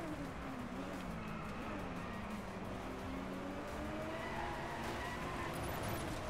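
Car drifting and skidding in the racing game Driveclub: a steady engine drone with a sliding, wavering tire squeal running through it, loud and continuous with no voice.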